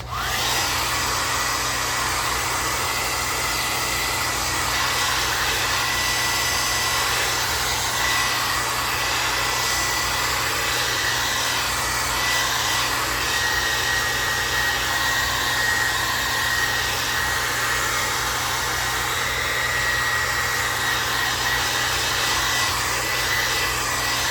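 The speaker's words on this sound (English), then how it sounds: "And we'll give it a quick blow dry." Hair dryer blow-drying paint on an art journal page: a loud, continuous close-up whoosh of air and motor hum that holds steady throughout without pauses.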